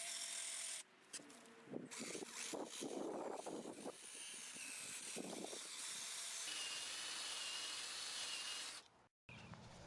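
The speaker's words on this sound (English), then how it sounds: "grabbed a wire wheel and go ahead and remove all the rust" A wire wheel strips rust and paint from a rough, rust-chipped vehicle wheel down to bare metal, giving a loud, steady abrasive hiss and rasp with bursts of heavier grinding, then cutting out abruptly near the end.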